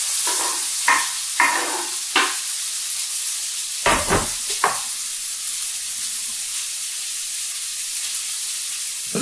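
Onions sizzling in butter and olive oil in a pan, opening with several sharp bursts as they hit the hot fat and are stirred, then settling into a steady hiss, close by.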